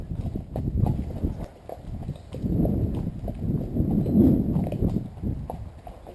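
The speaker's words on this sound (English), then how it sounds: "Hello, horse in the field." A horse in a field clip-clopping, with steady, close hoofbeats that thud on the ground and no pause.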